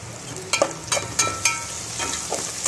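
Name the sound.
onions frying in oil with curry leaves and turmeric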